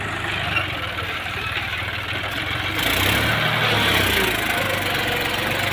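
A tractor engine runs steadily nearby, a low continuous rumble with a knocking idle, growing slightly louder and heavier about halfway through, with no talk over it.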